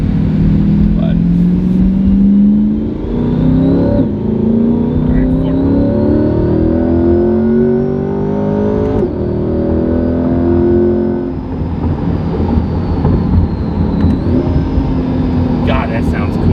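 A supercharged Dodge Viper of about 1,000 horsepower on a stock ECU accelerates hard through rising gear pulls, its engine loud and close throughout, with people talking over it.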